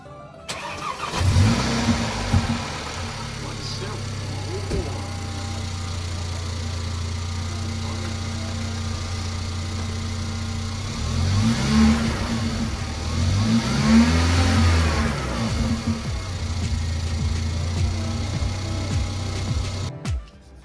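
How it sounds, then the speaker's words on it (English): A Mercedes A45 AMG engine cranks and catches after a turbo replacement, then settles into a steady idle before revving up a couple of times and dropping back, heard close by. "Will it start? I reckon she'll start."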